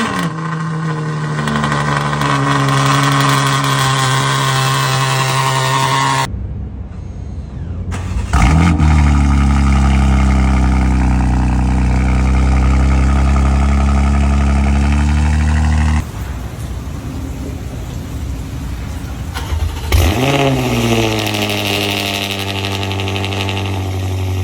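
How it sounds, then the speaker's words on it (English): A Ferrari 812 V12 roars through a loud cold start, holding a high, steady rev before a brief cutoff, then barking and settling toward a lower idle with further blips and drops in pitch. "Ferrari 812."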